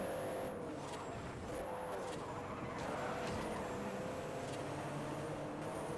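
A Citroen race car in Forza Horizon, a steady engine roar with tire noise and faint skidding, continuous and fairly quiet under a constant background wash.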